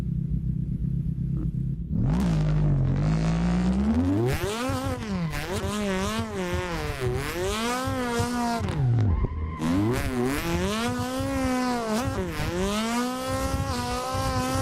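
A Toyota AE86 drifts in the Assetto Corsa racing game, its engine revving and warbling in rising and falling sweeps while the tires skid and squeal loudly, with a brief cut in the middle before the engine climbs again.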